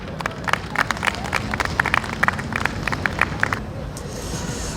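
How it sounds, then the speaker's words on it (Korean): A crowd at an outdoor Police Day event in Seoul City Hall plaza claps to welcome a speaker. The applause is steady, close and fairly loud, with sharp individual claps standing out, and it thins out near the end. "우리 한문철 변호사님을 큰 박수로 맞이하겠습니다."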